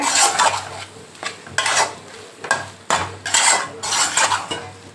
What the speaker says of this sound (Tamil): இந்த பரோட்டா இந்த சால்னா இந்த வெங்காயம் தக்காளி முட்டை எல்லாம் நல்லா மிக்ஸ் ஆகி வரணுங்க நல்லா மிக்ஸ் பண்ணிக்கோங்க